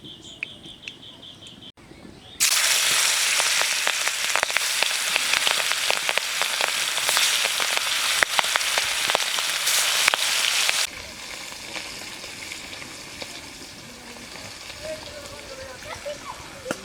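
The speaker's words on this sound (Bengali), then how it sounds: "সরষের তেল দিয়ে ইলিশ মাছ ভেজে নেব।" Hilsa fish hits hot mustard oil with a sudden loud, steady sizzle and crackle that lasts several seconds, then drops to a quieter simmering fizz.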